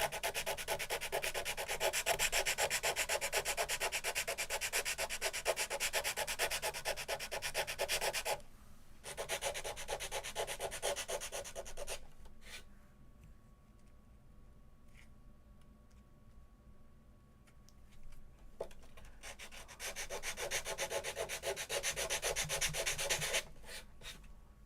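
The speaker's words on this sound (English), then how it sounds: "I'm going to try the sandpaper," Sandpaper rubbed by hand across a piece being finished, giving long runs of rapid rhythmic scratching strokes that break off into quiet pauses and then start again, close and fairly soft.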